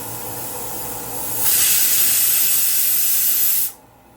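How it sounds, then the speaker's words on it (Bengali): A pressure cooker full of mutton lets out a loud steam whistle, the hiss building over a low background, holding steady for about two seconds, then cutting off abruptly. "আর এখন এই মাটনটাকে আমি সোজা দেবো প্রেসারে কয়েকটা সিটি দিয়ে"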